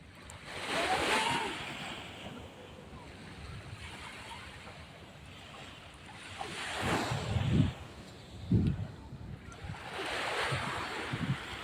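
Ocean waves break and wash up on a beach in repeated surges a few seconds apart, fairly close, with wind buffeting the microphone and faint voices in the background.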